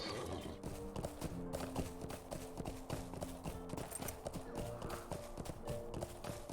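Rhythmic clip-clop of horse hooves trotting steadily in the video game LOTRO, close and continuous, over a low musical backdrop.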